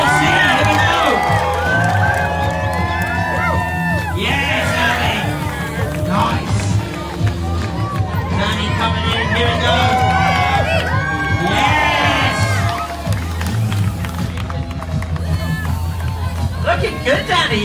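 A crowd cheering and whooping at a mountain bike stunt show, loud sustained roar with shouts, whistles and children's voices rising and falling throughout, with a voice talking over it.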